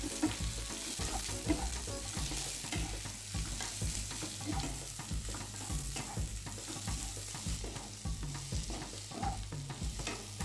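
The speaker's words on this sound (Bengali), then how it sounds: "পেঁয়াজটা হালকা করে ভেজে নেবো।" Sliced onions and green chillies frying in oil for butter chicken give a continuous, fairly loud sizzle, broken by a regular rhythm of stirring strokes through the pan.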